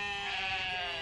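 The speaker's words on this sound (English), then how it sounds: "Are those sheep?" Sheep bleat on a golf course in a single sustained, fairly faint cry with a strong harmonic tone that lasts about a second.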